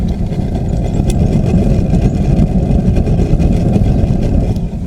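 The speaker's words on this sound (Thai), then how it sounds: "เรียกว่าเสียงดูดแบบแรงเลยนะครับ แก๊ส" A smokeless charcoal kiln draws in gas with a strong suction roar: a loud, steady, low rumbling rush that holds unbroken throughout, with no voices over it.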